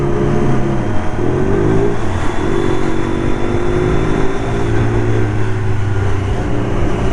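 A motorcycle engine accelerates while lane splitting through traffic, a loud, close continuous drone whose pitch climbs and shifts over several seconds, with wind and road noise underneath and no speech.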